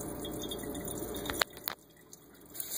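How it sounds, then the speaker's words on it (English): Filtered water runs from a kitchen tap, a steady faint rush that stops partway through with a few small splashes and drips, and no one speaking. "the way you turn the filtered water on is to turn this handle here"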